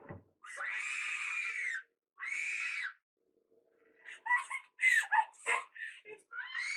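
Screaming from a ghost video: two long, high, drawn-out wails separated by silence, then a flurry of shorter yelping shrieks.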